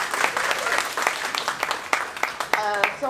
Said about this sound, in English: if we could applaud Nazia for this once more, that would be great